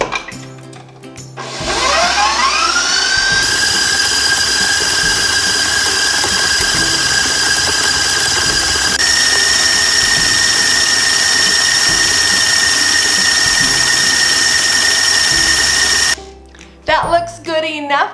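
An electric mixer creams butter and sugar for lemon bars with a loud, steady whirring hum that shifts pitch partway through before cutting off, with brief clatter and speech at the end.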